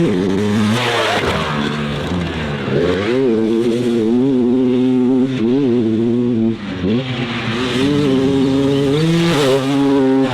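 A 21-year-old Honda CR 250 two-stroke dirt bike revs hard and close, its engine pitch climbing and dipping repeatedly through gear changes, loud and continuous with no talk.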